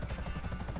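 An Akula helicopter in GTA 5 Online flies with a loud, continuous, rapidly pulsing rotor chop over a dense engine whine.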